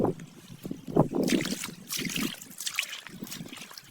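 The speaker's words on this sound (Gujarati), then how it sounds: "અહીંયા હજી પાણી આવે છે" Water trickling and splashing across a farm field near a water tank, a soft uneven flow heard close by for a few seconds with faint low rumbles.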